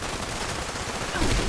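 Rapid automatic gunfire from a hard-recoiling weapon in Fallout 76, a dense continuous burst of shots that swells slightly louder toward the end, with no talking over it.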